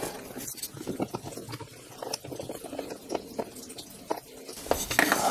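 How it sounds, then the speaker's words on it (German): Rainwater runs off a roof in a garage setting, a soft irregular pattering and trickling that stays fairly quiet and continuous, with scattered clanks and handling noises mixed in. "Es regnet gerade, falls ihr euch wundert oder falls es zu hören ist."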